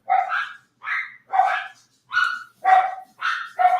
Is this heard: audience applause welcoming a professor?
no